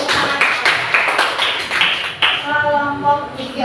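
A small group of people clap in a room, a few bursts of scattered, close hand claps, with a voice speaking over part of it.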